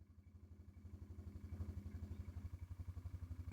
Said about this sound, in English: we are back on the bike